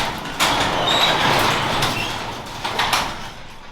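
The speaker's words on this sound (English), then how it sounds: "I'll open the garage door" A garage door slides open with a rolling rumble and rattling, loud and close, lasting a few seconds.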